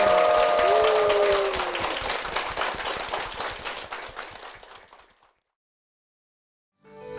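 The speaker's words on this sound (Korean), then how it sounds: "환영의 박수를 드리겠습니다." Applause from a church congregation, dense and steady clapping that gradually thins and fades out, followed by a brief silence before a new sound begins.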